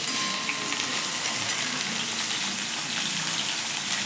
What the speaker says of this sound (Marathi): लसूण आणि त्याला आपण छान असं परतून घेऊया.